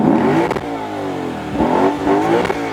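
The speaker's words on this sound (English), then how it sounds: "let's go ahead and take a lesson to that V8 naturally aspirated 5-liter engine" A naturally aspirated 5-liter V8 in a 2025 Lexus IS500 F Sport revs up loudly in repeated bursts, deep harmonic roar rising and falling about three times, close and strong.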